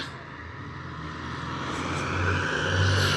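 A car passes nearby, its broad whooshing engine noise swelling gradually louder toward the end, with no voices.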